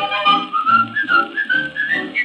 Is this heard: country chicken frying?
no